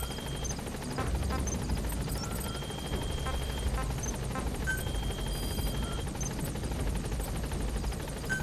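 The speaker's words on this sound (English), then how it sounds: "Support helicopter has arrived." In-game support helicopter from Metal Gear Solid V: The Phantom Pain, a steady rotor drone with a low mechanical hum held at moderate level under thin electronic tones and faint game effects, no talk.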